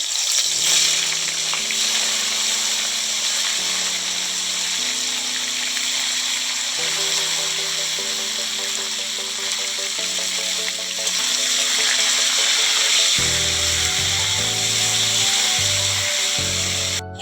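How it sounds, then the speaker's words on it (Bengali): Cauliflower pieces fry in hot oil, giving a continuous soft hiss and sizzle. A stepped, melodic tune plays steadily over the frying throughout. "এইবারে একইভাবে আমি ফুলকপিগুলো ভেজে নেব।"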